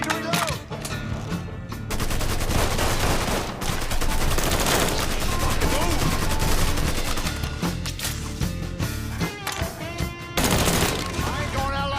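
Continuous loud gunfire in a Mafia III shootout, rapid overlapping shots and automatic bursts layered with music and occasional shouted voices.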